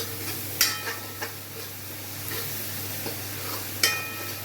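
Browned onions fry in a pan for a kaju gathiya curry, giving a steady close sizzle broken by a few sharp clinks of a spoon against the pan.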